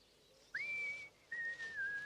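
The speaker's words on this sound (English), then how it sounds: "They could hear Farmer Brown whistling." A man whistles a short tune in a cartoon farmyard scene, two clear sustained notes with a brief gap between them, faint and somewhat distant over quiet background.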